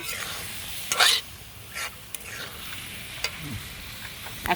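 Boal fish pieces, potato and tomato sizzle together in a pan while being stirred, a steady close frying hiss broken by several sharper scraping strokes of the spoon.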